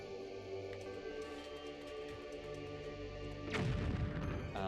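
A bomb blows up during play in The Legend of Zelda: The Wind Waker, a sudden loud booming burst late in the clip over steady game music and ambience.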